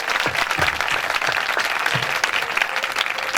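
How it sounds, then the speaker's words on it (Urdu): Vigorous applause from a church congregation, loud and sustained for several seconds with rapid overlapping claps and no talk over it. "خدا کے نام کے لیے سب زوردار تالیاں"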